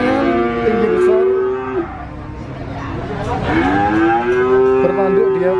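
Simmental breeding cow at the Nglangon animal market in Sragen, Central Java, gives two long, loud, close moos separated by a short pause, with faint market noise behind.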